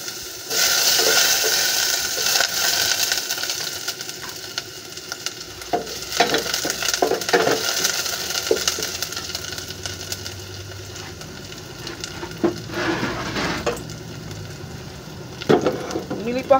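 Steady sizzling and frying of chicken in a hot pan, with occasional stirring clatter and scraping, loud and close throughout.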